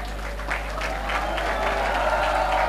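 Audience applauding at a career fair in a Mumbai school hall as students are called up, steady sustained clapping from a crowd with a low electrical hum underneath.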